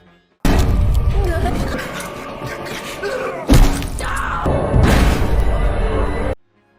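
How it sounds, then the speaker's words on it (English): A head slammed hard against a table in a horror film scene, heard as a loud crashing impact and thud amid a dense, loud movie soundtrack with further heavy hits and booming crashes. "Longlegs brutally smashed his head against the table and died instantly"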